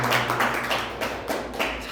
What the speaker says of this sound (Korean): 박수로 환영하시겠습니다